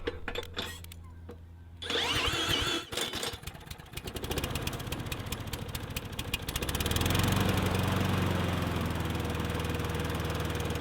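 A lawn mower's small engine is cranked by hand with a few sputtering pulls, then catches and runs loud and steady at close range.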